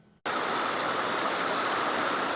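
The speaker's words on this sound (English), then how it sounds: "What's normally a quiet creek turned into a rushing river in Potosi as afternoon storms dumped tons of rain on Washington County." A normally quiet creek in Potosi, Washington County, Missouri, swollen into a rushing river by flash flooding from heavy afternoon storms, roars as a loud, dense, continuous torrent that cuts in abruptly after a brief quieter moment.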